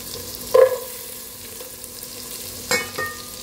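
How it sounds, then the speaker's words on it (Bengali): Carrots dropped into hot ghee hiss briefly at first, then settle into a quiet, steady sizzle, with a second louder crackle and clatter near the end, close up and with no talking. "ঘিটা গরম হয়ে গেছে, গাজরগুলো দিয়ে দিলাম।"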